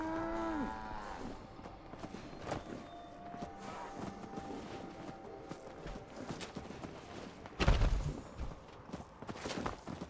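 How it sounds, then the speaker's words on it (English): In Fallout 76, a cow lets out a drawn-out moo at the start, followed by soft hoof-like steps, ambient game sounds and a louder thump near the end. "Good heavens, this cow, though."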